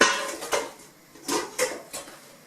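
Pots and bowls clatter as they are handled in a small kitchen, with several separate clinks and knocks spaced a second or so apart, close and fairly light, with no talking.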